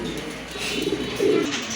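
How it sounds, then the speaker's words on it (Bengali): A pair of pigeons, including a blue one, cooing softly at close range, with a couple of low throaty coos rising over a quiet background. "খুবই সুন্দর চমৎকার এক জোড়া কবুতর"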